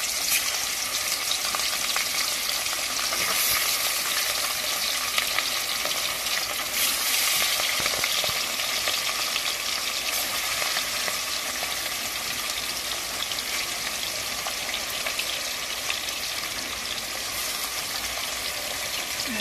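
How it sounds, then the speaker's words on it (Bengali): Marinated katla fish pieces fry in hot oil for a curd-based fish curry, giving a loud, continuous, crackling sizzle that stays even and unbroken for the whole stretch. "এবার দিয়ে দিচ্ছি মাছগুলো তেলের ওপরে। আমার তেল গরমই ছিল।"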